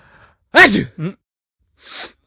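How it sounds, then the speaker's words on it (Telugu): A single sharp sneeze, close and loud, followed by a short breathy sound and a faint exhale. "తుమ్మినవా?"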